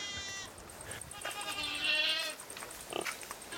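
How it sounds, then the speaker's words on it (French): A goat bleats on a farm in a few wavering, nasal cries, fairly close and clear against a faint background, with no talk over them. "C'est la chèvre de Monsieur Séguin."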